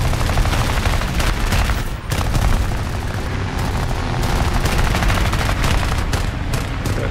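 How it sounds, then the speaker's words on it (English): Rapid aircraft gunfire in the War Thunder air arcade battle, a dense continuous fusillade of machine-gun bursts over steady engine roar, loud and close throughout with a brief dip near the two-second mark. "somebody's shooting at us."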